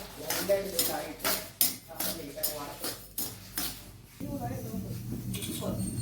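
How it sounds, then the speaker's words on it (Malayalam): Powdered salt heats in a pan before peanuts go in to roast, stirred with a utensil in repeated scraping, clattering strokes against the metal, close by, while voices speak over it. "കപ്പലണ്ടി വറക്കാൻ പോവാണ് ആദ്യം ഉപ്പുപൊടി ഇട്ടു ഉപ്പുപൊടി ചൂടാണ്"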